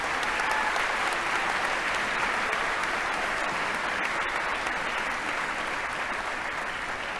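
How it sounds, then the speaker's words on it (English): A university commencement crowd gives deans and faculty a warm round of applause, a steady, dense clapping that fills the hall from start to finish at an even level. "Everyone, please join me in giving them a warm round of applause."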